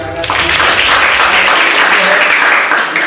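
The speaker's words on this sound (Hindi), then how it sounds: "ये 2 लाख तालियों से" Audience applause at a commemorative gathering held by a social service institute, a dense, steady wash of clapping that lasts the full few seconds, with voices faintly mixed in.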